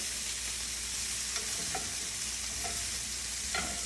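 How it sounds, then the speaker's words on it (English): Sea scallops pan-searing in a frying pan, a continuous soft sizzle with a few light taps and scrapes as they are moved, close and steady, no talking. "You can make sure they're all flat on the pan, so again, they cook evenly."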